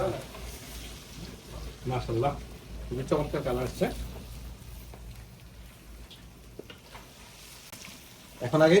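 Eggplant fries in oil by a riverbank during outdoor cooking, a soft steady sizzle running underneath a person talking nearby, with occasional stirring clatter.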